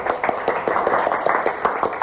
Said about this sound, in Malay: berikan tepukan buat Aiman semuanya